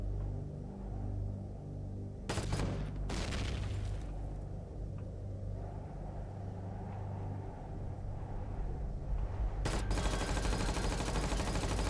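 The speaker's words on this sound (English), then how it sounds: "Really, 20 bullets from the Zero-X combat rifle wasn't enough." Zero-X combat rifle gunfire in the sci-fi survival game Empyrion, loud sharp bursts over a steady low rumble, one early volley and another near the end.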